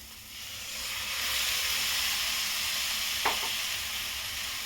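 Chicken goes into a pan of fried masala and sizzles steadily, a loud hissing fry that swells after the first second, with a brief stirring clatter partway through.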